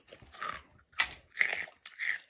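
Crunchy fried pakoda is chewed close to the mic, with four distinct crunching bites at a regular pace and brief quiet gaps between them; no one talks.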